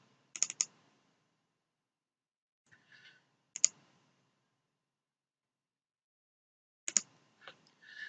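Sparse, quiet clicks of a computer mouse used in CAD software: a quick double click, a pause, then a few more scattered single and double clicks in a silent room.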